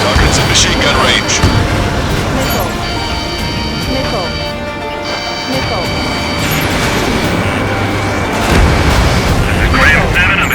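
Aircraft machine-gun bursts rattle amid booming explosions and jet noise during an air-combat mission in Ace Combat 7: Skies Unknown, with radio chatter voices talking over the dense, continuous battle din.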